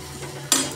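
Poha with potatoes and peanuts stirred in a pan, a short scraping swirl that rises sharply near the end, close and fairly quiet, with no talking.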